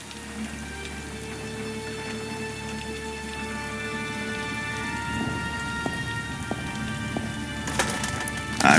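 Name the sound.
rain and thunder in video game Murder on Space Station 52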